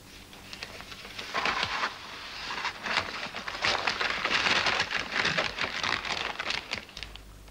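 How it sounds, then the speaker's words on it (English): Stiff parchment crinkles and rustles as it is unrolled in a radio drama scene, a dense crackling texture that runs steadily for several seconds without speech. "Unroll the parchment."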